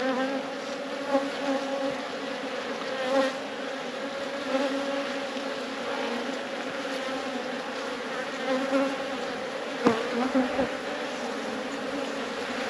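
Honeybees hum steadily around an open hive during a spring inspection, a dense, continuous buzz close by with small swells in loudness and no talk.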